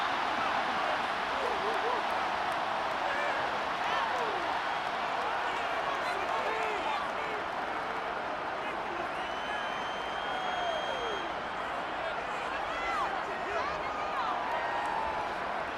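Stadium crowd noise from the Madden 24 football game, Eagles versus Rams, a steady loud roar of cheering and whistles that holds constant throughout ahead of a big third down.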